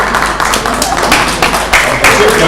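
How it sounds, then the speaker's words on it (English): A young audience at an international business conference claps for itself, a dense, loud, steady patter of many hands close by, with some voices mixed in. "Young people, clap for yourselves."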